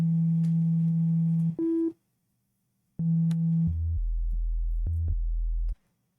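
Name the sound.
Analog BD Syn sub bass synth preset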